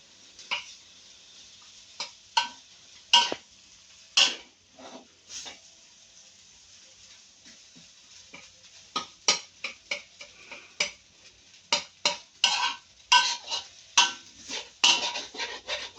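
Egg fried rice stir-fried in a pan over high heat, a quiet bed of sizzle broken by repeated sharp scrapes and clanks of a spatula against metal, growing busier toward the end.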